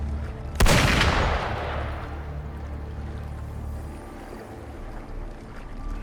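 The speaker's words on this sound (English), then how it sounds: "Gunfire! We've got intruders." A single sharp gunshot in the video game Wuthering Waves, a loud close blast early on that trails into a long fading rumble and low ambient noise, with no talking.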